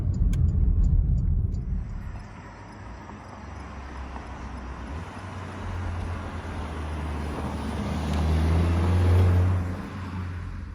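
Porsche Macan 2.0 turbo fitted with a Flat 6 Motorsports intake system, its engine droning and rising as it accelerates on the road, with a steady whooshing intake and road rush, fairly close.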